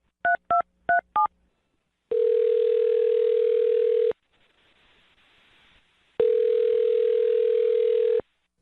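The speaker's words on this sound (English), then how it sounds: "I'm going to dial his phone number right now and see if we can get him on the phone" A quick burst of touch-tone dialing beeps, then two long, steady ring tones separated by a brief quiet gap as a phone call connects on a radio show; clear and alone, with no speech.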